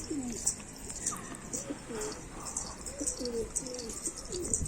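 Pigeons coo in repeated low, rolling phrases, close by, with faint chirps and outdoor background noise.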